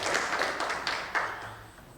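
A church congregation claps together in a short, dense burst of applause that fills the room, then fades within two seconds.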